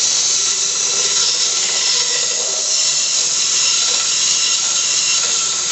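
A homemade 2x42 belt sander with skateboard wheels runs steadily with a loud, continuous high-pitched whine and hiss, with no pauses.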